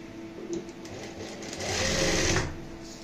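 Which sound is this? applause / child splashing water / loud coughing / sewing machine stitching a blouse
sewing machine stitching a blouse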